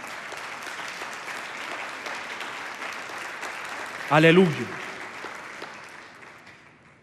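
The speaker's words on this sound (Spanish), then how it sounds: "Denle un fuerte aplauso al Señor." Church congregation giving a sustained round of applause, steady mass clapping throughout, with a voice calling out briefly partway through before the clapping gradually fades.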